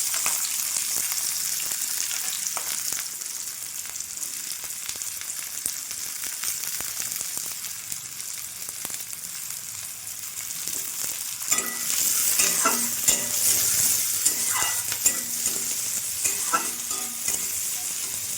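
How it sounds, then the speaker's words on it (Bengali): Chopped onions fry in hot oil in a kadai, a steady close sizzle throughout, with louder stirring scrapes and clicks in the later part. "তেল গরম হয়ে গেছে, দিয়ে দেব পেঁয়াজ কুচি।"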